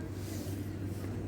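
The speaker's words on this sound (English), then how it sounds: "Nice new bus arrived" A new bus pulls in at a station in Inverness, Scotland, giving a steady, low diesel engine rumble that stays close and constant throughout, with no speech over it.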